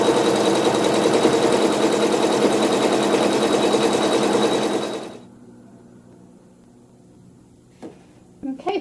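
Domestic sewing machine stitching a placement line over wool batting, running loud and steady with a fast whirring buzz for about five seconds, then stopping, followed by quiet room tone and a few small handling knocks.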